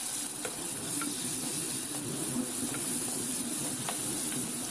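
Chopped tomatoes frying with onions and ginger-garlic paste in a pan for vegetable biryani, giving a steady hissing sizzle throughout with faint occasional stirring ticks, no voices.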